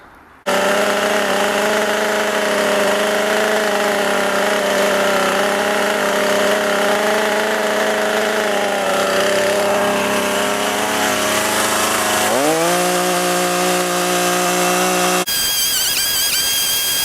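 A chainsaw roars steadily while cutting notches into logs for a homemade crane, loud and close, its engine pitch dipping and shifting under load toward the end before the tone changes abruptly.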